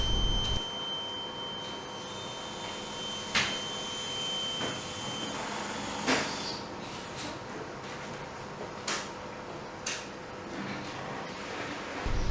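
Test of a reconditioned oil mist detector head, its alarm giving steady electronic tones with a few sharp beeps and clicks spread across the stretch, no talking.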